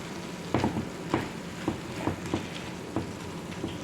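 Chicken and pepper stirred in a frying pan, a constant close sizzle broken by a handful of louder scraping stirs at uneven intervals, no voices.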